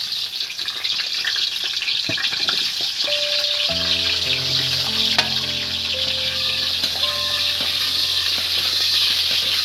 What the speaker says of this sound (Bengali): এবার এই তেলেরই মধ্যে হুম, এবার এই ফুলকপিগুলো আমি দিয়ে দেবো